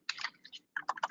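Bursts of typing on a computer keyboard while entering a name into a training software form, close and crisp, in two quick flurries separated by a short pause.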